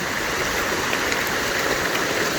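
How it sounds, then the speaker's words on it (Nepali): A swollen village stream rushing along at a spot where people collect water: a steady, full roar of flowing water, close and unbroken throughout, with no voices. "खोला आएछ यतिको राम्रै आएछ नि त"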